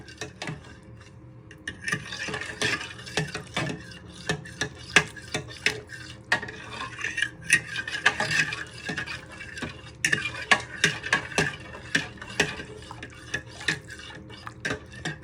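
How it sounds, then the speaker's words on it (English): A spoon stirs soup ingredients dissolving in hot water in a pot, for a rosemary and butternut squash soup, with steady close scraping and sloshing strokes and irregular clinks running throughout, no voices. "You want to give them a good stir, but be careful the hot water doesn't splash you."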